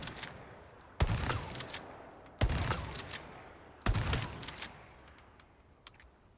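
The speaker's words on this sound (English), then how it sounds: "this shotgun fires at the shoulder and is a lot more manageable in terms of its recoil as well. We're going to fire a few shots." Three loud, sharp shotgun blasts from the Resident Evil 4 Remake video game, evenly spaced about a second and a half apart, each with a booming report that decays slowly, followed by faint clicking handling sounds.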